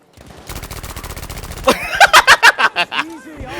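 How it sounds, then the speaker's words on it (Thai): A Thompson M1928A1 submachine gun fires in Battlefield V: a rapid, loud burst of automatic shots, then a slower run of distinct heavy reports, with a voice speaking briefly near the end. "20นัดยิงไม่สะใจเลยเว้ยแต่เน้นยิงไว"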